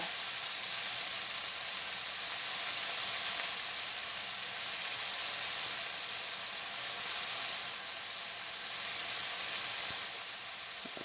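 Chicken fried rice browning in a hot pan gives off an even, close sizzling hiss that barely changes throughout, with no voices over it.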